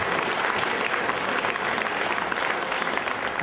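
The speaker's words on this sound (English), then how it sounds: "Let's give her a round of applause." Audience applause during a mentalism stage show, a steady, even wash of many hands clapping, moderately distant and sustained for a few seconds.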